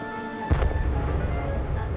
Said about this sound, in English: The bang echoed round the gorge.